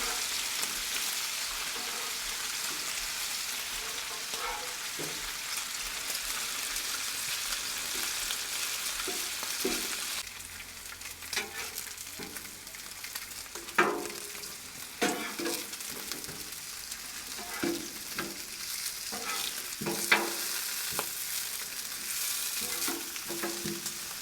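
Breakfast sandwich ingredients on a Blackstone griddle, a continuous close sizzle after flipping with spatula scrapes and taps scattered throughout and no speech.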